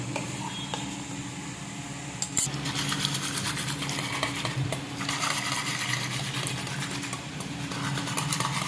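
A kulfi mixture of milk and coconut is stirred in a bowl, with continuous soft scraping and swishing under a steady background hum, close and fairly quiet.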